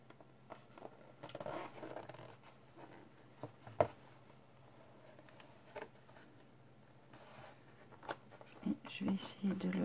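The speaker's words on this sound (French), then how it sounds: "Je vais me faire un petit pli là." Paper is folded by hand for an advent calendar, giving soft creases, rustles and scrapes close up and faint, with a few sharper crinkles, under quiet talking.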